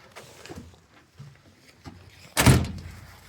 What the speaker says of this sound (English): Oops, I closed the door.